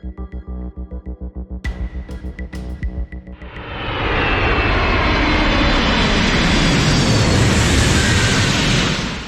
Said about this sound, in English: It is a real moment captured as an airplane passes through thick fog during an impressive landing.